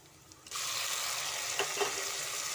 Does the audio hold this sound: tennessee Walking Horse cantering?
no